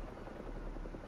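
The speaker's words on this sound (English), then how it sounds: "Something's going on there. Helicopter's blades." Helicopter rotor blades in the Marvel's Spider-Man 2 video game, a low, rapid chopping thrum that pulses steadily at close range, fairly quiet and unbroken, with no talking.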